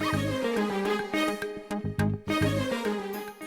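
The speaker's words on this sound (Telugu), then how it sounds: "కుక్కపిల్ల సౌండ్ టీవీలోంచి వచ్చిందన్నావు?" A puppy whimpers and yips in short, high, wavering cries, fairly close, with brief pauses between the sounds.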